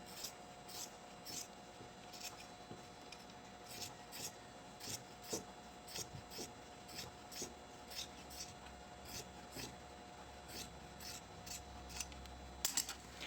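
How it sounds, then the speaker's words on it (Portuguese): Scissors snip through excess synthetic leather trim on a school pencil case, a quiet close series of crisp, evenly spaced cuts. "E vou cortar o excesso de material desse vivo."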